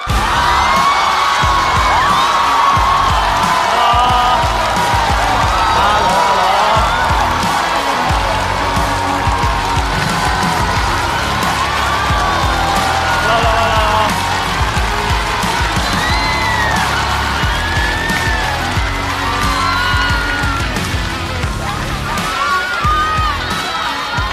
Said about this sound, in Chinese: 让我们掌声有请黄子弘凡